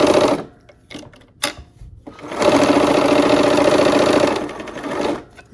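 Domestic sewing machine stitching a seam on a Christmas tree quilt block, a steady fast running whir that starts, pauses briefly, then runs continuously for about three seconds before stopping, close and loud.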